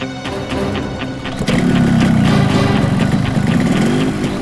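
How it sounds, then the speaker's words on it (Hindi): Motorcycle engine starting up and then running steadily, a loud low rumble that jumps in level partway through and holds, with no talk over it. "बाइक स्टार्ट हो गई, जल्दी आओ।"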